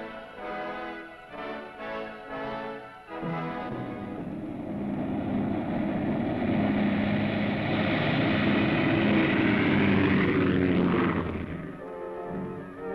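Propeller-driven hurricane seeding and observation planes fly out to meet a storm, their engines producing a steady, loud droning roar that swells and then fades near the end.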